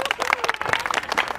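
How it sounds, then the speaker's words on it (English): A small group of people, including college students, claps for a special guest named Alexandra; a brief burst of close, uneven hand claps mixed with voices talking over it. "Special guest, Alexandra, everybody clap it up."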